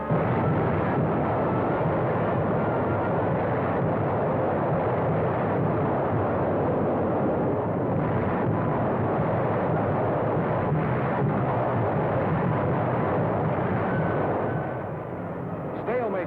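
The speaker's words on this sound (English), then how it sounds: "American Fifth Army artillery hammered back." American Fifth Army artillery fire in World War II rumbles as a continuous, dense barrage of booming blasts, loud and steady throughout with a band-limited, old-film quality and a narration-like layer mixed in.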